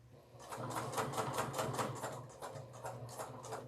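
A Juki sewing machine stitches a clutch bag, giving a steady, close run of rapid mechanical needle clicks over a low motor hum for several seconds, with no talk.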